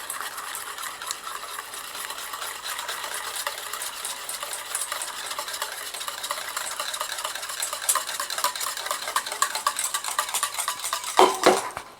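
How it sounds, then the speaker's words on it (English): A whisk beats steadily against a pan of simmering milk for crème caramel, a continuous fast metallic rattle that stays close and even, ending in a few sharper clinks, with no voices. "So I'm just going to whisk this in."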